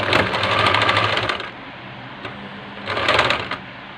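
Sewing machine stitching a black dress with flare sleeves, two bursts of rapid mechanical whirring and clatter separated by a brief pause, close and clear with no talking.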